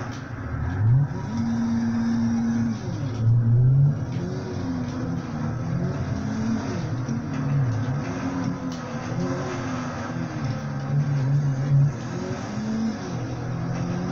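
A police car driving at night in GTA 5 on Xbox 360, its engine droning steadily and rising and falling in pitch as it revs and shifts, heard close with no talking.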